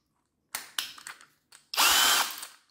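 A Parkside PBSPA 12 C3 12V cordless drill, close and loud, gives a few short trigger blips and then one steady whirring run of about a second.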